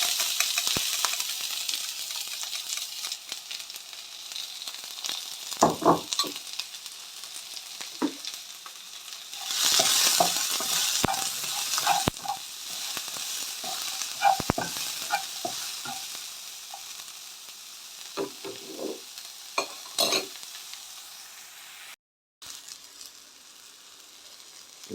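Onions browning in a pan for crab rice, a steady close sizzle and hiss running throughout, broken by repeated scrapes and clinks of stirring with a utensil, no talking.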